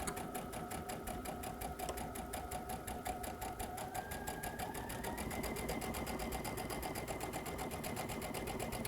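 Continuous whirring of a sewing machine stitching a quilt border along a 1/4 inch seam, steady and close for the whole stretch, with no talking over it.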